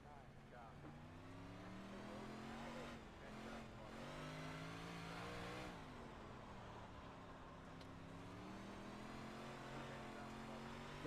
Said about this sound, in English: That's the pace car.